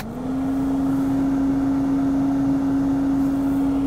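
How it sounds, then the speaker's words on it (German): A Lada Niva's heater blower fan runs steadily inside the cabin, a loud, constant droning whine that starts almost at once and holds an unchanging pitch. "Gebläse."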